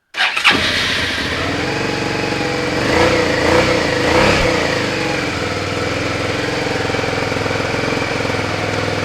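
A Suzuki SV650 motorcycle engine fires up on a cold day, catching abruptly and settling into a loud, steady idle with a couple of brief surges in the rumble, no voices over it.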